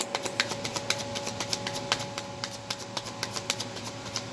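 Oracle cards shuffled by hand during a reading, a quiet run of crisp riffling snaps and flicks in irregular quick bursts, close up and alone.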